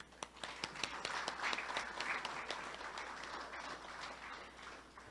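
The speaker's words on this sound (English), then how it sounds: "a wide applause, a huge applause to every single one here" Applause from the audience at a Rotary District 7030 governor installation ceremony, a soft, fairly distant wash of many hands clapping with a few sharper individual claps standing out, steady throughout.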